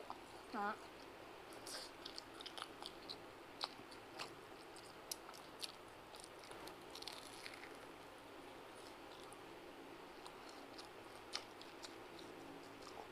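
Someone bites and chews a mozzarella cheese corn dog, producing soft, close, wet chewing and a few crisp bites that repeat irregularly over a steady low background hiss.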